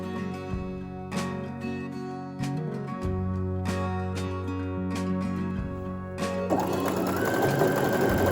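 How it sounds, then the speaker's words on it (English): A domestic sewing machine stitches ribbon onto fabric, running steadily in close, loud bursts with brief pauses between runs and a faster, busier stretch near the end, with no voices. "I took it over to my sewing machine and I sewed it"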